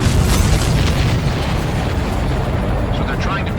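An aircraft explodes in the combat flight game Ace Combat 7, a dense, rumbling boom that fills the soundscape with heavy low roar and crackle, continuing loud throughout.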